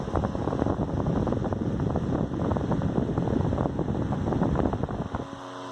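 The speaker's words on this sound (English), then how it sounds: "a very, very fine working example of a vintage General Electric fan" A 1930s General Electric electric fan running steadily, a loud continuous whirring motor drone with rattly texture that stays even throughout, then cuts off at the very end.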